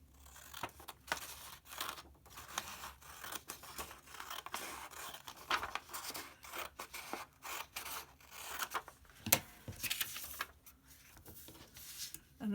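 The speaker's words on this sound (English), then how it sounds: "Cut it on that line." Sewing scissors cut fabric along a diagonal fold for bias binding, a steady run of quiet, close snipping and rasping strokes that continue throughout, with one sharper snip near the end.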